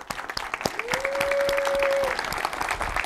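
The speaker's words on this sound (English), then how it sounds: "Big round of applause." A conference audience bursts into a round of applause for a speaker taking the stage at a React Native talk, dense clapping with a sustained tone running through the middle, moderately loud.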